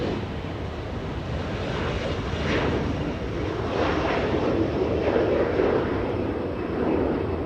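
A SkyWest Embraer E175 regional jet takes off at Los Angeles International Airport on a hot day, its engines a steady, broad roar that swells slightly midway and holds, heard alone without talk.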